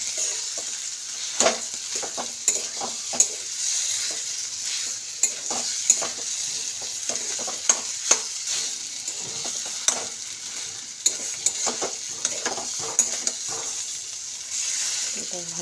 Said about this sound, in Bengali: এটাকে ভালো করে আমি মিলিয়ে দেবো। এরকম করে এটাকে ভালো করে মিলাবো।